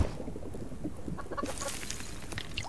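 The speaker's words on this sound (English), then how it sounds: "So we need to feed chickens with carrots." Chickens clucking inside the survival video game Subsistence, a cluster of short, close clucks over a steady low background hum, with a brighter burst of fowl calls partway through.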